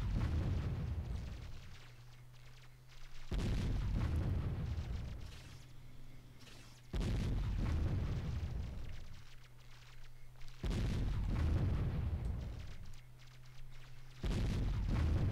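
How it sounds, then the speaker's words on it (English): Cannon fire and explosions in the strategy game Warzone: four heavy booms at roughly regular intervals, each followed by a long rumbling decay with a low hum between blasts, no talking. "so we shoot faster with the cannons"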